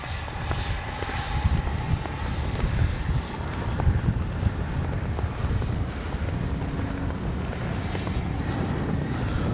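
A Freewing 90mm F-22 Raptor RC jet flies overhead, its ducted-fan whine a steady, loud roar with a high whistling tone that sweeps down in pitch, mixed with outdoor wind.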